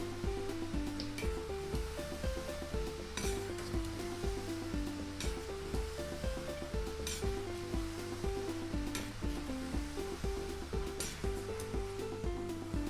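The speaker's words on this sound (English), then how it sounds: "it will fry very quickly. The sizzling will stop." Steady sizzling of sweet shakarpara dough pieces frying in hot oil, continuous and close, with a faint musical backdrop running underneath.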